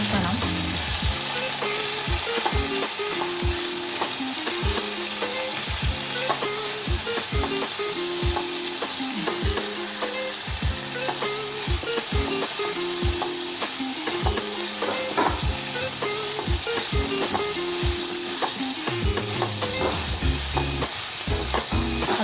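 Beef liver fries with salt in a hot pan, giving a steady loud sizzle throughout. Regular scraping stirs of a spoon sound close up, about twice a second, over the hiss.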